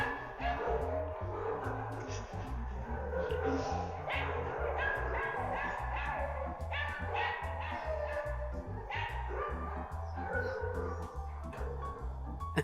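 A dog barks repeatedly in short, fairly regular yaps with a few whimpering yips mixed in, close and clear, keeping up a steady rhythm throughout with no talk over it.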